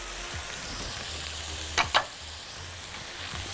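Orzo fries steadily in a pan with garlic, rosemary and peppers, giving a continuous sizzle, with a couple of brief scraping clicks from the stirring utensil partway through.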